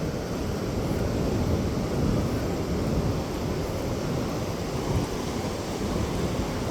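Surf and wind at Rosarito Beach make a continuous broadband roar, with waves washing in under steady wind buffeting the microphone and no voices.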